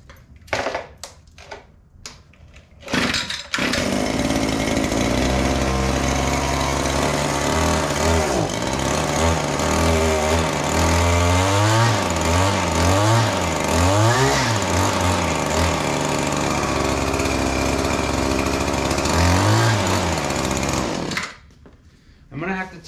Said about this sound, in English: let's get this thing right here and fire it up